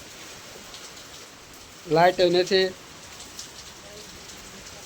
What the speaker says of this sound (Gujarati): બહાર ફૂલ વરસાદ આવે છે.